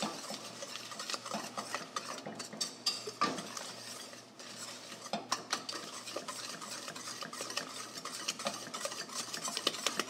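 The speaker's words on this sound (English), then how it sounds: "we need to cook this until it reaches 160 degrees and we need to stir it the whole time" Egg custard pie filling is stirred in a pot on the stove, a steady stream of close scraping and clinking of utensil against metal with a low background hum, and no talking.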